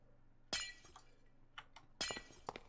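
Glass breaks in the blocky survival game TerraFirmaCraft, a modded Minecraft, with two sharp shattering crashes followed by scattered clinks of falling shards, near and clear against a quiet background.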